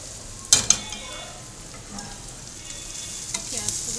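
Onions and whole green chillies fry in oil until browning, with a steady soft sizzle and a couple of sharp utensil clicks near the start.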